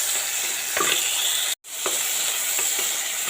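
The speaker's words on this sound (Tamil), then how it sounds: "இப்போ தக்காளியை சேர்த்துக்கலாங்க. ஒரு நிமிஷம் நல்லா வதக்கிக்கலாங்க." Tomatoes sauté in ghee and oil in a pan for sambar rice, giving a steady close sizzle with soft scraping stir strokes and a brief break in the middle.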